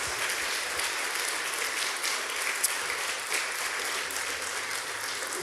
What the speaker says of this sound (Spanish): Vamos a dar un fuerte aplauso a todos los servidores, pero un aplauso con cariño, con amor, con ganas.